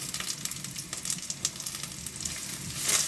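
Asafoetida and spices temper in hot oil for a seafood dish, producing a steady, close, dense crackling sizzle that swells slightly louder toward the end, with no voices.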